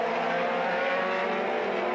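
F5000 race cars howl around a racing circuit at a Retro Speedfest meeting in Sydney, a dense, loud, continuous engine roar with layered revving tones and no voices.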